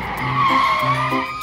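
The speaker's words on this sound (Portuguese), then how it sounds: "Vejam, aí vem um carro." Cartoon car from a children's counting-train show skidding, a loud sustained tire-squeal screech with wavering pitch lasting over a second, alone and close.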